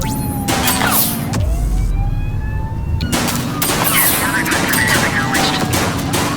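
Dense bursts of gunfire crackle in GTA V over a busy street scene, with rapid volleys and single loud shots close by. Rising siren tones and engine noise sit underneath throughout.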